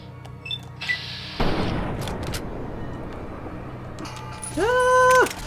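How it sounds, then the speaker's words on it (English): A frag grenade blasts in Fallout: New Vegas with a sudden loud boom that rumbles and decays over a few seconds, amid other game effects and a brief rising tonal chime near the end. "Oh, he's got a frag grenade."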